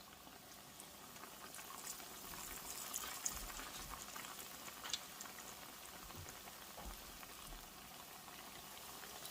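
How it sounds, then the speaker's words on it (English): Sweet potato pies fry in hot oil with a soft, continuous bubbling sizzle, steady and fairly quiet, and no talking. "we're going to let it fry for just a little bit"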